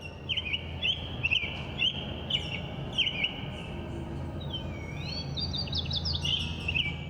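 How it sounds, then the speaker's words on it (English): Birds sing in a sound artwork, clear chirps and trilling calls repeating in quick bursts over a low, murmuring background. "the sound of the birds is kind of peaceful"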